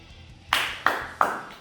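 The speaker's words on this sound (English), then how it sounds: "Give yourself a round of applause on that one." Three sharp, evenly spaced hand claps ring out alone after an intense HIIT workout, close and moderately loud with a short decay after each.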